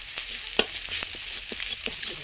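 Garlic paste, salt and turmeric sizzling in hot oil in a pan, a bright crackling fry broken by a few scraping stirs and spatters, close and without speech.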